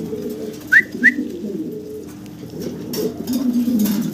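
Male and female pigeons cooing nearby, low soft throaty coos running through the clip alongside a couple of brief sharp chirps from other birds.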